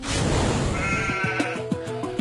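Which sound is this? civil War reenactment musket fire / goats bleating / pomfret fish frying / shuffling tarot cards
goats bleating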